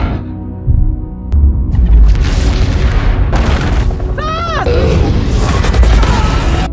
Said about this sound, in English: A massive explosion rips through the area, destroying everything in its wake.